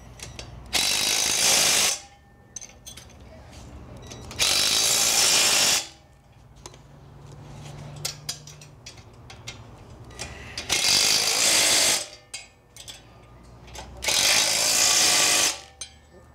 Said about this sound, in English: You gotta love power tools.